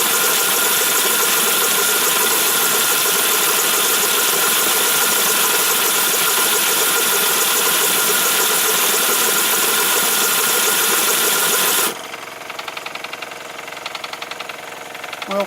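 A Wilkinson pattern model steam tram engine running unoiled on compressed air from an air hose, a loud, fast, steady hiss and chuffing clatter that stops abruptly near the end, leaving quieter intermittent knocks.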